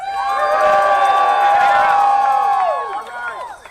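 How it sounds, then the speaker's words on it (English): Protest crowd cheering and whooping outside City Hall ahead of a council vote on an AI data center, a loud sustained roar of many voices with shouts that fades near the end. "How about a cheer for the City Hall in there?"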